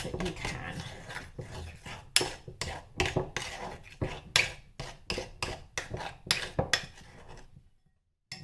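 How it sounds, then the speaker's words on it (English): A spoon scrapes and clinks against a bowl in quick, repeated strokes while a homemade glue mixture is stirred briskly to remove lumps, then the sound stops near the end. "Keep mixing to get all the lumps out the best that you can."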